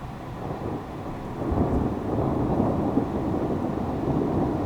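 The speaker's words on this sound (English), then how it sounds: "You could hear the thunder, but we didn't yet have the rain" Low rumbling of distant thunder rolling under steady rain-like hiss, swelling slightly partway through, with no voices.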